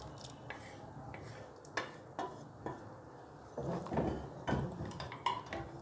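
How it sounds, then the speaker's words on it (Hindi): Chana dal tipped carefully into a cooking pot for chicken chana dal, with a few clinking knocks of utensil against metal and soft scraping, near and moderately loud with no talking. "अब मैं इस दाल को उठा के इसके अंदर ऐड कर दूँगी एहतियात के साथ ताकि आपके ऊपर ना आए।"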